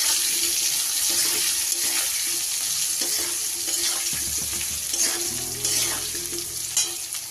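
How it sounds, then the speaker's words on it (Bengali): Diced potatoes seasoned with salt and turmeric fry in hot oil with a steady, dense sizzle that runs the whole time, with a few soft stirring scrapes in the middle and no talk. "আলুগুলোকে আমি এবার লাল লাল করে ভেজে নেব"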